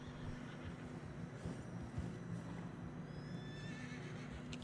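Horse neighing and whinnying with soft hoof steps through fresh snow in Red Dead Redemption 2, a steady, moderately quiet mix of animal calls and footfalls with no talking.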